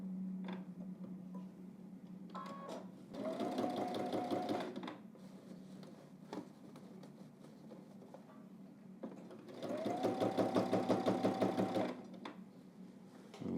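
A household sewing machine stitches a garment toward the hem in two steady whirring runs of a few seconds each, close and clear, separated by quieter pauses with small clicks and handling.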